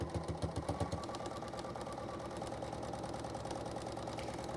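A sewing machine stitches along a quilt grid, its rapid mechanical whir running steadily throughout with a few heavier rhythmic thumps at the start, close and moderately quiet.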